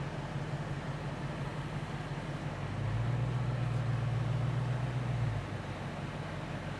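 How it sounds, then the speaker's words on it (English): Inside a 2022 Dodge Challenger Super Stock, the air conditioner blows a steady, soft hiss of airflow while a low hum swells for a few seconds in the middle and then settles. "Air conditioner's blowing."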